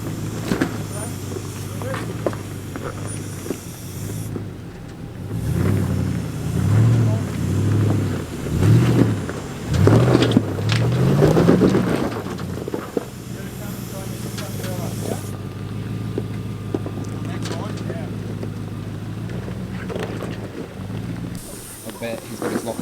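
A heavily loaded 4WD truck with a long range tank labours up a hill, its engine rising and falling in uneven surges with steady road noise, while people talk over it.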